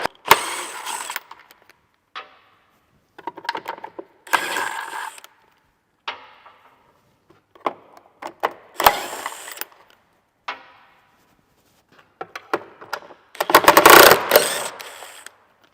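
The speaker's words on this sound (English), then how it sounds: "now we're removing the bolts along each rail" A power tool zips bolts out along the battery rail underneath a Tesla Model S, with a series of short whirring bursts separated by silent gaps, ending in a longer, louder run.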